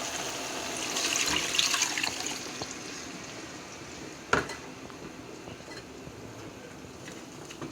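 Water pours steadily into a pot of brown stew chicken with spices, a hissing splash that swells and fades, followed by a clink of a utensil and quieter trickling.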